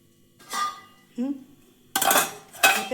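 Cooking pots and metal utensils are handled nearby in a home kitchen, giving four separate bursts of clattering and clinking, the last two loudest, with quiet gaps between them.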